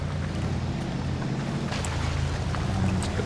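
A truck engine in the video game Mud Runner (American Wilds) drives across terrain as a steady, low, droning rumble with a faint windy hiss, heard alone.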